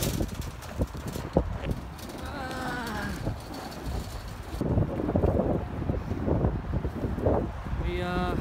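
Strong wind from a windstorm roars and buffets the microphone steadily throughout, with people talking faintly underneath, outside a Walmart.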